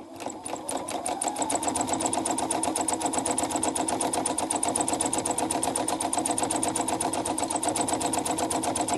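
Sewing machine stitching a zigzag appliqué on fabric, a rapid steady mechanical whirring chatter that runs close and continuous after a brief start.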